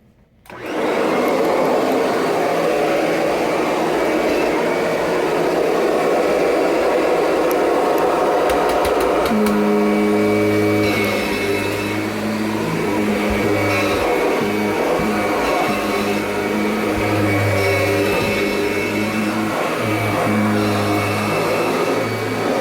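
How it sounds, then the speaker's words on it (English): A 2001 Limited Edition Kirby G6 upright vacuum cleaner runs loud and steady indoors, a constant whining roar with shifting tones as it is pushed back and forth. "I got my 2001 Limited Edition Kirby G6 plugged in. We're gonna vacuum."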